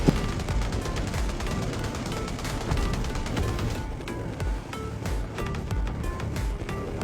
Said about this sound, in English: all the proximity cannons in the canyon roared to life